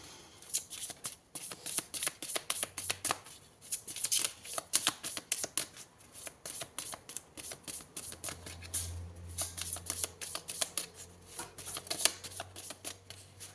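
Tarot or oracle cards being shuffled and laid out for a Gemini horoscope reading, a steady soft riffling patter of many quick flicks, close and fairly quiet, with no talk over it.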